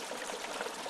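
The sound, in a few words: oil bubbling as turkey is lowered into deep fryer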